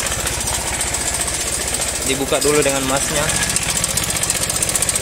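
A Honda Vario 110 scooter engine with a worn cam chain tensioner idles up close, giving a loud, rapid, even ticking rattle, with someone speaking briefly over it.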